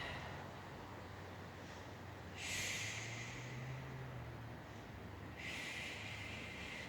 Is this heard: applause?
no